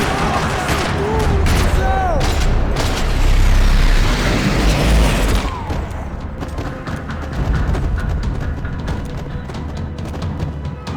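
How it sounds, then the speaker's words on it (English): Gunfire in a parking lot in the video game Max Payne 3, dense bursts of loud, rapid shots and booming impacts that crowd the first half, then thin into scattered shots and rattling echoes, with game noise throughout. "Another parking lot rattling with gunfire."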